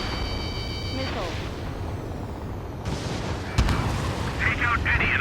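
Gunfire and explosions from a fighter-jet combat game, Ace Combat 7, rumble continuously with sharp bursts and a heavy boom midway, while radio chatter and warning beeps sound over the battle.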